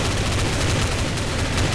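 Gunfire in a video game rattles in a dense, continuous burst, loud and close, with no pauses across the short stretch.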